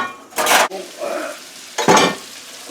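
Potatoes and bacon cooking in a cast iron pan under a lid, giving two loud bursts of sizzling and stirring scrape separated by a quieter steady frying hiss.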